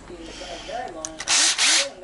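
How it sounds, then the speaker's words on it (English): A power drill bores holes through a plastic fan shroud from a Nissan Skyline R33 GTST, two loud, short whirring bursts following a stretch of faint talk and handling noise. "drill some holes"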